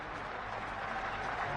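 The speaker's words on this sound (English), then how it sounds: "a generous round of applause from the big crowd here at the WACA ground" Big crowd at the WACA ground in Perth applauding a batsman's century during a 1986-87 Ashes Test, a steady, dense wash of clapping filling the whole stretch without a break.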